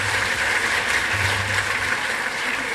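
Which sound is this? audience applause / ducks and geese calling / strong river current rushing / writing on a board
audience applause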